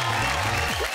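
Loud, dense applause from an audience at an awards ceremony in Dubai, filling the full moment as a presenter is invited to the stage, with music or crowd noise mixed beneath.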